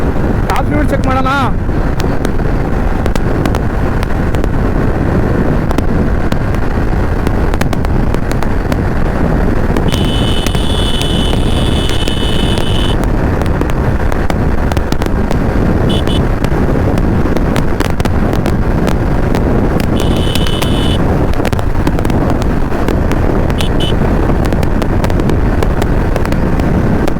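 Racing blue Yamaha R15 V4 motorcycle ridden at top speed: heavy, constant wind roar buffeting the microphone and burying the engine, with a couple of brief high electronic tones partway through.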